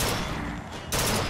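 Gunfire in the game Bioshock Infinite comes as a loud, close burst of rapid shots, with a short lull before another sharp volley starts.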